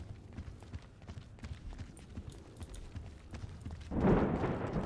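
Quick running footsteps patter in a hide-and-seek match in GTA 5, a rapid irregular series of soft thuds at moderate distance, followed near the end by a louder burst of scuffing noise.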